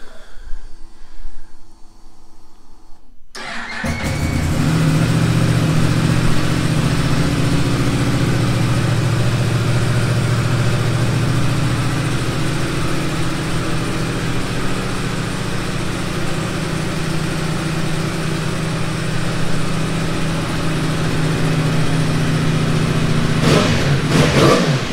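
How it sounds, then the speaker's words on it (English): A 2017 Yamaha R1-M motorcycle fires up after a quiet lead-in, settles into a loud steady idle close by, then gives a couple of quick revs near the end. "I will give you guys a quick little start up and a couple revs so you guys can at least hear the bike"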